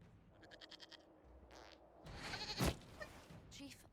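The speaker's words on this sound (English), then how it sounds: "we discovered this man attacking the building with a goat" A goat bleats in the video game Dragon Age Inquisition, a short quavering cry near the start over quiet game ambience, followed by a louder burst of other in-game sounds.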